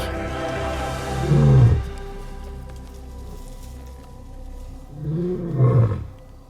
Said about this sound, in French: l'un des prédateurs les plus emblématiques de notre planète, le lion d'Afrique